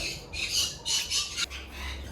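Red-rumped parakeets and rosellas in a cage give several harsh, brief squawks in quick succession, fairly faint and somewhat distant.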